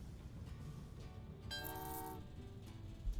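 Trains running in the Train Valley 2 video game: a steady low rumble of rolling stock, with a clear horn tooting for about half a second midway, and a soft ambient bed around it.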